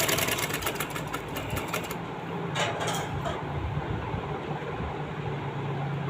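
Sewing machine stitching the seam of a kameez, a steady close whirring run for about two seconds, then short bursts and quieter mechanical ticking with a low hum underneath.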